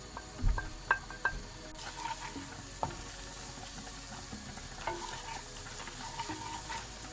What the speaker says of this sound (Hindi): इसको अच्छी तरह से भून लो, अच्छी तरह से भून लो।